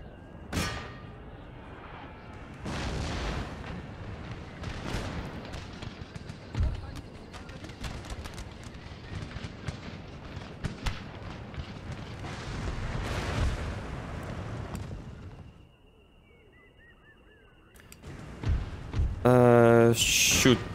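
Cannon fire and artillery explosions from a battle in Empire: Total War, booming repeatedly and heavily for long stretches before easing, with a player talking over it.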